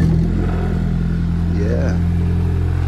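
A car engine runs at a steady, loud idle right from the start, a low rumbling drone with faint clatter and a slight rise in pitch near the end.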